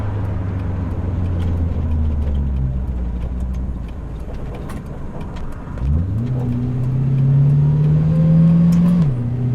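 A turbo V8 in a 1984 XE Falcon wagon drones steadily while driving, then dips and surges as the engine revs up through a gear, loud and close from inside the cabin.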